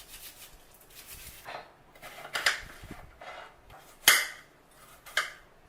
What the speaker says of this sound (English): we will get to chopping. We will start off with an onion.